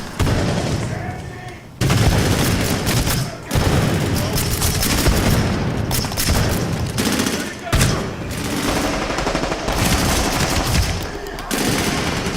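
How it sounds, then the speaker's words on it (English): Heavy gunfire and bursts from combat in the video game Medal of Honor Warfighter, with a grenade blast somewhere among them, loud and nearly continuous with a few short breaks. "Grenade."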